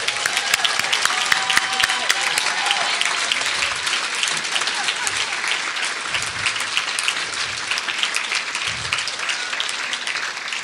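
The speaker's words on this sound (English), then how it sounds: "Can you please give them a round of applause?" Audience applause at a national conference award presentation, dense and sustained clapping from a large crowd filling the room, loud and continuous, with faint voices beneath.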